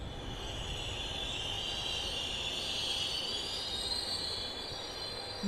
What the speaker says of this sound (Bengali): কে জানে কতক্ষণ দাঁড়াবে এই ট্রেন ঘাটশিলা স্টেশনে।